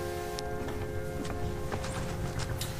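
Horse hooves clip-clopping in Skyrim, a steady walking gait with no speech over it, set against a constant tonal game music bed.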